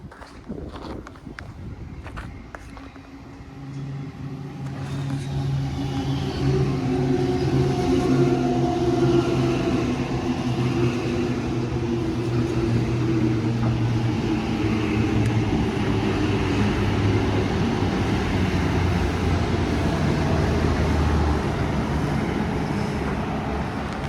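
Oscar and Explorer trains pass at Erskineville, Sydney, rising from a quieter start into a loud, steady rumble with humming motor tones that holds to the end.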